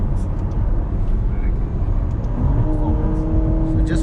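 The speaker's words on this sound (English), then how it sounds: "hopefully you'll be able to listen to that beautiful growl of this V8 bi-turbo" Ferrari GTC4Lusso T's bi-turbo V8 growling as it drives through Mumbai streets, a continuous deep engine drone that rises in pitch in the second half as it revs up through a gear.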